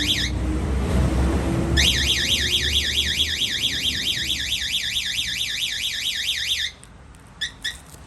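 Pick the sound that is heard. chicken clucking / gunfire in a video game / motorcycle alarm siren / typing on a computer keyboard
motorcycle alarm siren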